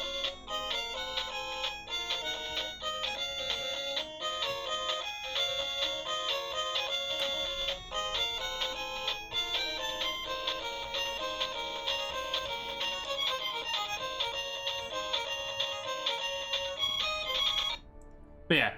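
The chiptune theme from the video game Castlevania 2 plays as a bright, fast melody of steady electronic tones that runs continuously and loud before cutting off abruptly near the end.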